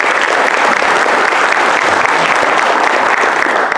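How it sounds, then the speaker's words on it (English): Dense, steady applause from an audience at an education event, loud and continuous throughout with no voices rising above it. "A round of applause, please."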